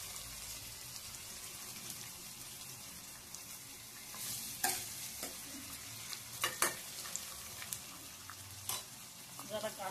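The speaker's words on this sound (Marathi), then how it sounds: "जरा कांदा आपला लाल होऊ देते।" Chopped onion fries in a pan with a soft steady sizzle while a spoon stirs it, giving occasional scraping clicks and clinks against the metal, close and fairly quiet.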